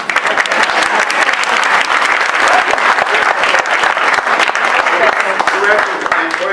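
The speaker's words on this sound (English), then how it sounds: "yes, you may clap" Loud, sustained audience applause at a teen Broadway showcase in a theatre, a dense, even roar of many hands clapping close by, with a few voices mixed in.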